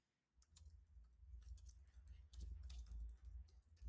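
Faint keyboard typing, quick light key clicks in short irregular bursts, close but quiet.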